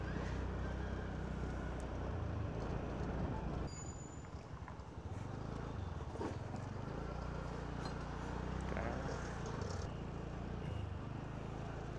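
Road traffic on a route near Daulatabad in Chhatrapati Sambhajinagar, a continuous low rumble of passing vehicles with a brief dip partway, heard alone without talk.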